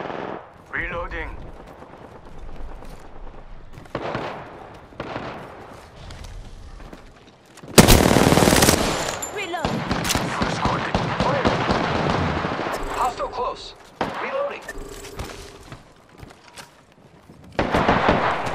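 Apex Legends gameplay: repeated bursts of automatic gunfire crackle in and out, with quieter stretches between volleys and a loud, dense run of shots in the middle, mixed with game effects and occasional voices.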